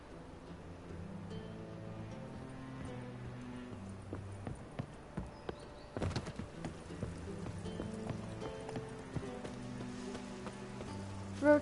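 Roach the horse's hooves clip-clop steadily through a garden in the video game Witcher 3, fairly quiet and rhythmic over soft background music, with a brief louder scuffle midway.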